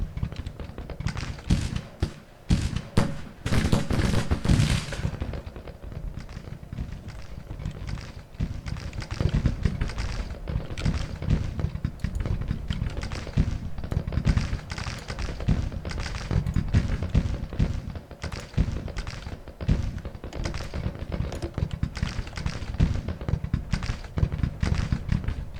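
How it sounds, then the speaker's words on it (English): Dense crackling musket volleys and rifle fire from a Civil War battle in the Grand Tactician strategy game, heavy bursts of shots rolling continuously with louder thumping volleys early on and sustained rattling fire after. "I heard all that gunfire going on"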